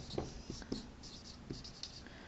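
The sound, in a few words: writing on a board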